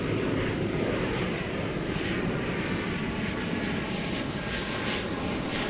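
UPS cargo plane at DFW Airport bound for the Louisville Worldport, a four-year-old aircraft, its engines giving a steady, loud, broadband roar that holds evenly throughout with no voices.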